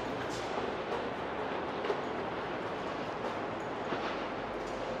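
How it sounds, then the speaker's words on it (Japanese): Steady, loud rumble and rattle of a passenger train ride in Chicago, heard from inside a carriage with continuous wheel and track noise and a few faint clicks, no talking. "では電車に乗りました"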